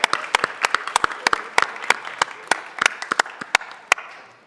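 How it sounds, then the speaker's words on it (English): A small group at a city council meeting claps in sparse, distinct hand claps, close and fairly loud, thinning out over a few seconds. "Let's give them a round of applause."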